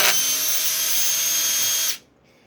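A drill driver whirs loudly at a steady pitch for about two seconds while driving M4 screws, then stops abruptly, leaving faint background noise.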